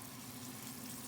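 Rosemary steak sizzling in a hot pan, a dense steady hiss of frying fat heard up close and on its own.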